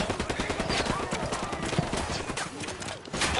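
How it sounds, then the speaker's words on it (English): Rapid automatic gunfire crackles from a Ghost Recon Wildlands firefight, dense bursts of shots rattling continuously at moderate loudness with a faint voice underneath. "I'm shooting these fuckers"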